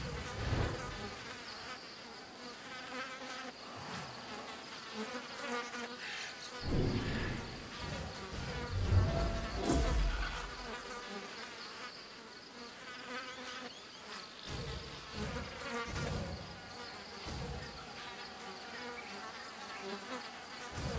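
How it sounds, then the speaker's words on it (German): Bees swarm in a prehistoric wilderness in Ancestors: The Humankind Odyssey, buzzing steadily and densely throughout with rising and falling swells, some louder close passes, and no talk. "Hier sind doch so viele Bienen oder so."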